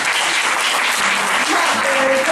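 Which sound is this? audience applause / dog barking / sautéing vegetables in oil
audience applause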